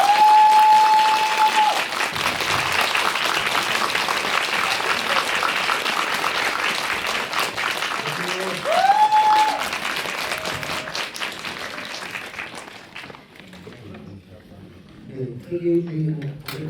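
Audience at a Korean film screening Q&A applauds as the director and poster designer are welcomed on stage; steady, dense clapping fills most of the clip, with a host talking over it before it fades into quieter chatter.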